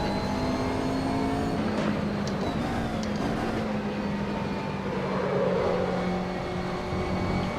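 A car driven in the Assetto Corsa racing sim, its steady engine drone carrying continuous tyre roar and scrub, with pitch slowly shifting under load across the whole stretch and no talking.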